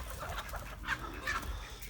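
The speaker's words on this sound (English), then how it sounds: "it's just kind of fun watching the chickens enjoy themselves" Homestead chickens cluck softly while pecking at feed, a couple of short faint calls over a low murmur of outdoor background noise.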